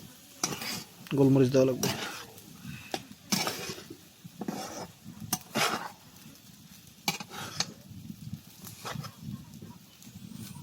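Utensil scraping and clattering against a pan while food is stirred in a village kitchen, with a few louder metallic knocks early and intermittent scrapes throughout, under a faint sizzle and brief talk.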